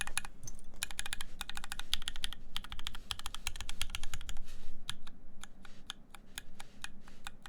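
Keys on a mechanical keyboard being typed to test the switch sound, with rapid close clicky bursts and then slower, separated single key presses toward the end.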